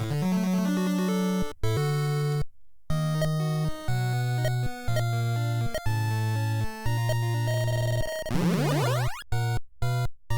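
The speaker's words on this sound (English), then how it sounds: "I think you'll find a lot of the 8-bit RPGs are actually sound like this." Chiptune music and effects from the 8-bit RPG Herakles no Eikou II play continuously, with square-wave tones stepping between notes, several abrupt cutouts and a rising sweep near the end, loud and alone without any voices.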